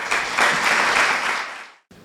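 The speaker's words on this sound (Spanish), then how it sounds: "Un fuerte aplauso." A burst of loud audience applause at a formal civic ceremony in Moral de Calatrava naming a favorite son, dense and steady before it cuts off abruptly.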